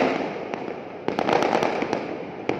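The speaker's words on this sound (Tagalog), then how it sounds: "Ayan na putukan na, talagang putukan." Firecrackers burst outside during Chinese New Year, a rapid scatter of sharp cracks and pops over a hazy rumble of distant explosions, fairly loud and close, no talk.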